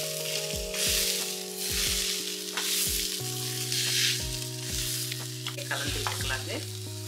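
Flour dough sizzles and fries in a pan while being stirred and sautéed, with steady crackling and repeated scraping stir strokes close up.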